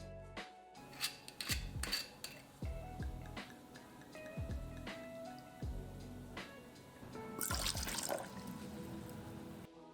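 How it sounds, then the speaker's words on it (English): Grapefruit cordial and Lillet Blanc are poured into a metal cocktail shaker tin, with close dripping and trickling liquid broken by several sharp clinks and taps of bottles and jiggers against the tin, no talking. "I'm going to add 3/4 ounce of the grapefruit cordial to my shaker tin, followed by 1 ounce of Lillet Blanc."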